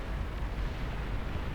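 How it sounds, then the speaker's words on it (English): A chain explosion in the strategy game Beyond All Reason, a dense, sustained rumbling blast with heavy low-end roar, continuous through the moment and fairly loud. "and it's a chain explosion"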